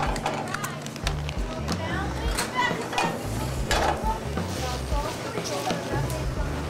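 Garlic thrown into olive oil in a hot pan, frying with a steady crackling sizzle and some utensil clatter, heard beneath a person talking throughout.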